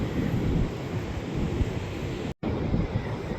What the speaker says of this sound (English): Wind is starting to pick up and it's not even midday yet